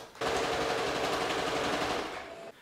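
Sewing machine stitching a pocket facing to the lining of men's shorts: a steady, rapid mechanical chatter that runs continuously for over two seconds, close and loud, then stops abruptly.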